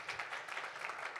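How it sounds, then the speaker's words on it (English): A room full of people applauding steadily for a speaker at an immigration information session, a dense continuous patter of many hands at even loudness with no talk over it. "Give Itzel a round of applause."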